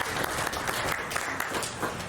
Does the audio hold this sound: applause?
yes